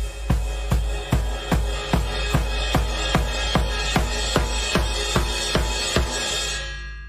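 A drum kit plays a steady unison build of crashed ride cymbal, snare and bass drum, about fifteen evenly spaced hits over a sustained cymbal wash, loud and close with the ring fading at the end.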